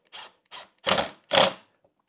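A screw is driven back into cracked wood held by a clamp, heard as four short close bursts of a power driver, two light then two louder, separated by silence.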